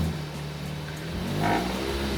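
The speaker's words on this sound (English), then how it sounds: "when I'm actually driving and it reaches up to 2000 RPM, you can actually hear the vibrations as well" A car engine fitted with a Tsduo race header exhaust hums steadily near 2000 RPM, a low droning rumble with a slight swell partway through.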